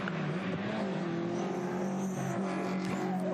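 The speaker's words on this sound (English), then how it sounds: "Unless there was a missed gear change, you had to wait for the engine, the revs to catch up to get it right the next time." Historic race car engine at the Le Mans Classic Grand Prix de l'Âge d'Or, a loud, steady, close engine note holding its pitch with a slight wavering change near the end.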